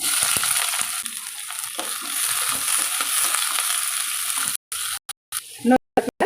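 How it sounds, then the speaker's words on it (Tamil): Onions and curry leaves dropped into hot groundnut oil fry with a loud, close, continuous hiss and crackle, cutting out abruptly a few times near the end. "இந்த எண்ணெய் சட்டியில் கடலை நான் ஊற்றிருக்கேங்க இப்போ வெங்காயமும் கருவேப்பிலையும் போட்டுக்கலாம்"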